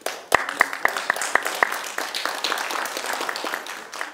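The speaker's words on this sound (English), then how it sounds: "I'd like to give her a round of applause." Applause for a library network coordinator at a conference, a burst of clapping starting with a few sharp claps, then sustained dense clapping from the audience that fades slightly toward the end.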